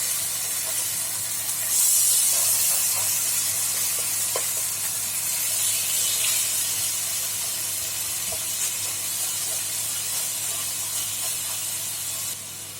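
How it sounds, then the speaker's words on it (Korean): Pork shoulder steak sizzles loudly in a hot pan with a continuous close hiss and spitting, a brief surge as it is turned over with tongs, then a steady fry. "노릇하게 익은 고기를 집게를 이용해 뒤집어 줍니다"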